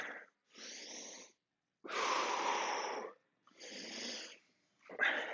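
Slow, deliberate breaths during a fitness workout, each long rushing inhale or exhale separated by short silences, close and clear with no talking, four full breaths and the start of a fifth.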